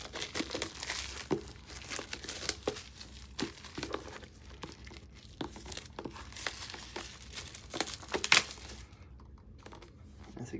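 Plastic packaging crinkles and crackles as a refillable A5 journal with a soft cover dot grid notebook is unwrapped, a steady run of close, moderately quiet rustling with a few sharper crunches and tears.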